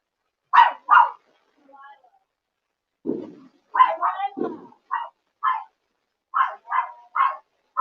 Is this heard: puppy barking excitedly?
yes